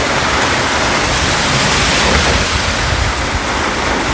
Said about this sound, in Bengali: এইরকম লেভেলের বৃষ্টি হচ্ছে,